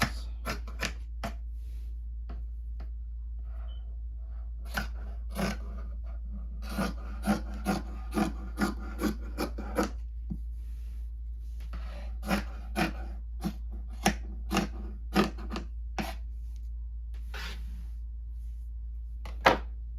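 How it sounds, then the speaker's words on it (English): Scissors trim excess fabric from an upcycled patchwork hoodie, with a run of short crisp snips and rustling cloth, some quick and rhythmic, over a low steady hum. "I'm just gonna cut off any excess."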